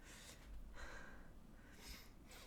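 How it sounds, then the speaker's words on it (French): A woman with a stuffy, congested nose sniffles, a few faint, close, wet sniffs spaced unevenly across a short quiet stretch with no speech. "Je suis désolée de renifler comme ça un peu grossièrement, mais j'ai le nez qui est pris."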